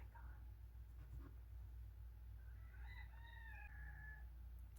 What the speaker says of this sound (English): My roosters are going this morning.